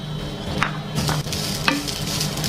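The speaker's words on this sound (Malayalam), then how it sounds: "ഫ്രൈ പാനിലോട്ട് നമ്മൾ ആദ്യം ഡ്രൈ റോസ്റ്റ് ചെയ്യാൻ പോകുന്നത് തേങ്ങയാണ്" About 100 grams of grated coconut dry roasting in a fry pan over moderate heat, giving a soft steady sizzle with occasional light scraping and stirring clicks, close and alone without talk.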